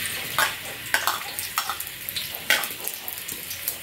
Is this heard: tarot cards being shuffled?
no